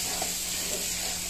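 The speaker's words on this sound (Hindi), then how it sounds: "मम्मी की बाटी सिकने लगी है" Baati roasting in pure ghee gives a soft, continuous sizzle, close and steady over a short moment with no talking.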